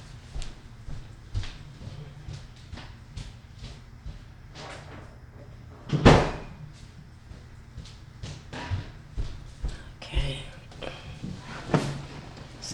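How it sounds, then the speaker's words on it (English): A door is pushed shut indoors during a tarot card reading, landing as one firm, fairly close thud midway through, with quiet room rustling and handling noises around it. "Let me just close the door here."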